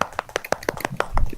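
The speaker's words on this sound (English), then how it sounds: "Many claps." A small group claps to welcome a guest on a podcast, about ten quick close hand claps in an uneven rhythm that fade out after about a second.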